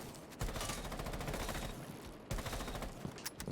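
Buck's rifle in Rainbow Six Siege firing rapid automatic bursts, two sustained strings of close, loud shots separated by a short pause, with a few quick taps at the end and no talking.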